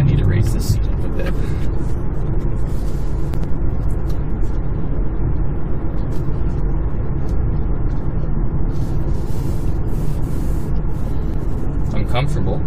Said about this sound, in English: There's some tire noise, a little bit of wind noise.